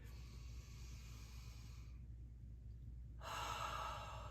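A deep, long inhale during a yoga breathing cue, close to the ear, followed by a pause and then a stronger, louder rush of breath, with no talking.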